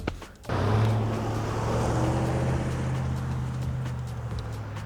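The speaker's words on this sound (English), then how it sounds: "I love it when cars keep passing by" A car drives past on a roadway, its engine and tyre noise swelling into a steady, fairly close rumble that holds for several seconds with no one talking.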